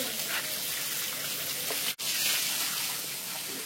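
Tap water pours steadily into a container being filled at home, a continuous splashing gush that breaks off for an instant midway before resuming.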